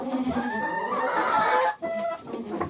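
A chicken clucks and squawks repeatedly up close, its agitated calls coming in quick bursts with a short pause near the end.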